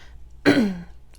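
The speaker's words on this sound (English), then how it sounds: "Sorry, I'm like coughing so much." A single close cough from someone speaking to the camera, one sharp burst that trails off over about half a second, with quiet room tone before and after and no talk.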